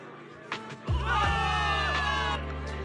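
A crowd in the video game Zenless Zone Zero bursts into cheering and shouting after a sudden thump, a dense roar of voices that holds steady before easing slightly.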